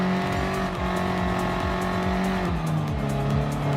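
A race car in Gran Turismo Sport roars with a loud, continuous engine drone, its pitch stepping up through gears with a sharp shift partway through, accompanied by tire noise and no talking.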